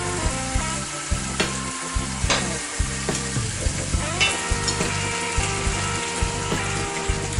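Chicken pieces go into a pan already holding tomato and frying, setting off a loud steady sizzle with rhythmic scraping and stirring clicks from the utensil throughout.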